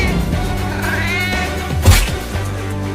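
A cartoon cat, angry after its kitten was hit by a tempo, lets out a loud meow over a backdrop of music, with one sharp burst near the end.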